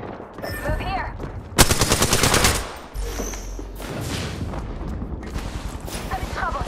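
Rapid automatic gunfire rattles in a burst from a shooter video game, loud and close, between quieter stretches of game noise and distant shots.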